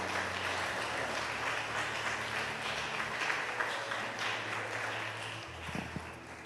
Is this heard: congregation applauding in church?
yes